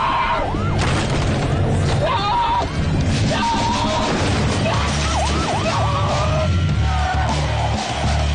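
A police car siren wails loudly and repeatedly during a car chase, with engine roar, rumbling booms and voices mixed into the dense, continuous noise.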